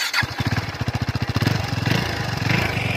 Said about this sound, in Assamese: আপোনালোকক এতিয়া মই এই বাইকখনৰ আৱাজটো শুনাই দিছোঁ,